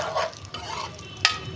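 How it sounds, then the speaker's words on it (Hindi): Potato and eggplant curry fries in a pan as it is stirred, giving close scraping strokes over a soft sizzle and ending in one sharp clink, brief and without talk. "इसको ना अच्छी तरह हमने भून लेना है।"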